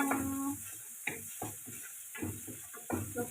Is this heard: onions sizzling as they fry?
yes